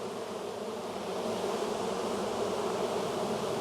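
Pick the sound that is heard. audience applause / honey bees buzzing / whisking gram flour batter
honey bees buzzing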